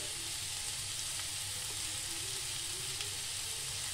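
Chilies and salt sizzle in hot oil in a frying pan while pumpkin is cooked for a spiced dish, a constant, even hiss with no voices over it.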